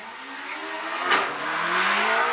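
A 1600 Caterham race car accelerates hard off the start line at a hill climb, its engine note rising steadily and loud through the run, with a brief burst of tyre noise near the middle.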